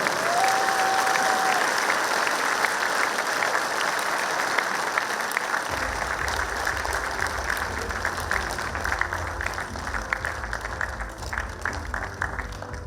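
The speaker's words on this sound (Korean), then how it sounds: "여러분 큰 박수로 맞아주시기 바랍니다." A ceremony audience applauds, a dense and sustained clatter of many hands that carries on steadily for the whole stretch, joined by a low hum partway through.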